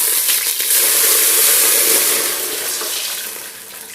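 Water pours steadily into a cooking pot for rice kheer, a loud, continuous rushing splash lasting a few seconds and easing off slightly toward the end, with no voices.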